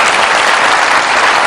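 A studio audience at a comedy show claps loudly and continuously, a dense, close wall of applause filling the whole short stretch without any talk over it.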